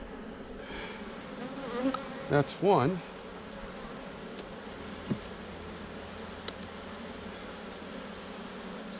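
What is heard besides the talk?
honey bees buzzing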